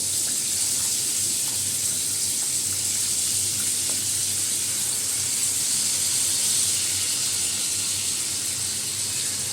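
Marinated pieces coated in chili powder, turmeric and salt fry in a hot pan, giving a steady, even sizzle and hiss that continues alone without speech.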